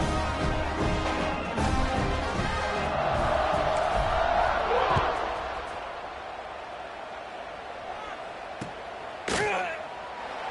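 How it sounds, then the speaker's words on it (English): Football stadium crowd at a USC vs LSU game buzzing after a score, a loud sustained roar with a rising cheer that fades into a lower murmur, a brief burst near the end, with commentary over it. "this crowd is buzzing after that last score"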